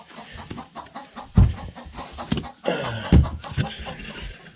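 Turkeys cluck and call near a feeder at a log cabin homestead, irregular bursts of gobbling and clucking at close range with a few louder calls.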